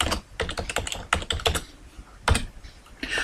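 Computer keyboard typing into a Microsoft Excel 2010 spreadsheet: irregular bursts of quick, close key clicks with short pauses, alone without talk.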